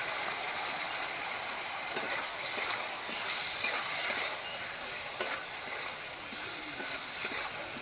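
Fish frying in a pan with a mustard and poppy seed paste, giving a steady close hiss and sizzle with scattered pops and scraping clicks of a spatula over several seconds.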